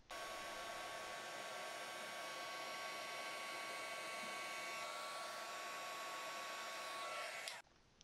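Heat embossing tool blowing over a stamped shooting star image on a card, a steady whirring hiss with motor whine running for several seconds before cutting off abruptly near the end.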